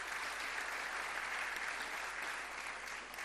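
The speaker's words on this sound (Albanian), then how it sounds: "një duartrokitje për zonjën Ademi dhe njerë" Applause from a theatre-festival audience for Mrs Ademi, a dense, even clapping that fills the hall and carries on steadily without speech, heard from a moderate distance.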